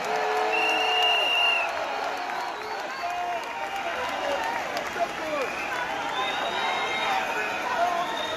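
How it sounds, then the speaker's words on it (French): A crowd applauds and cheers as a presidential couple leaves an event in Paris, with steady clapping and raised voices carrying through a busy, echoing space. "applaudir la sortie du couple présidentiel"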